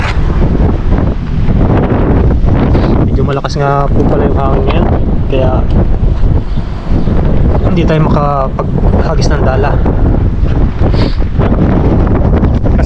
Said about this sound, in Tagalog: Malakas nga po pala yung hangin ngayon